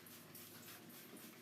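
A pet dog named Lily pants and whimpers close by, a steady soft breathy panting with faint whining over a quiet room, no talk.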